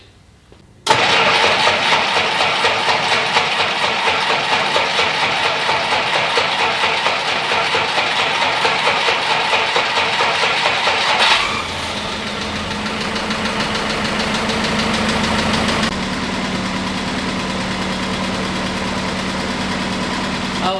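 A Jeep CJ5 engine cranks and fires up, then settles into a loud, steady, slightly knocking idle that runs close by for about twenty seconds with a shift in tone partway through, no talking.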